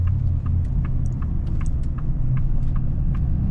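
A 2024 Ford 6.7 Powerstroke diesel truck with a 587 whp tune rumbles low and steady while downshifting hard in tow haul mode, with faint clicks and ticks over the drone and no talk.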